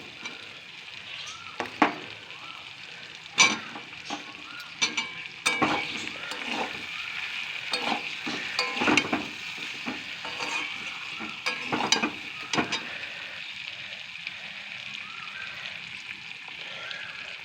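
Fried potatoes tossed into a pan of spiced chicken curry, giving a steady bright sizzle broken by repeated scraping and stirring clatters from a spatula, up close with no talk.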